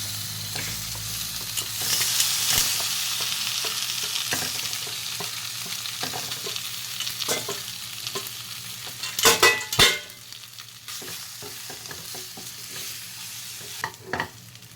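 A poha and semolina breakfast mixture stirred in a pan with the gas turned off, a soft ongoing sizzle under repeated spoon scrapes and knocks against the pan, with a few sharper clatters midway, no talking.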